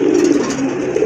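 Pigeons cooing close by, a soft, continuous low throaty burble that repeats with no talk over it.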